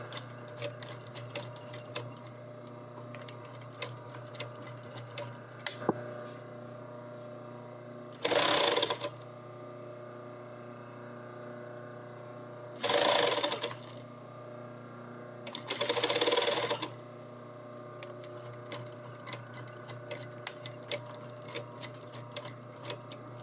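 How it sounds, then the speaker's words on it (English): A sewing machine top stitching fabric, running in three short bursts of steady, dense needle clatter at close range, with quieter ticking and mechanical handling noises in the pauses between runs. "Let's get this top stitched."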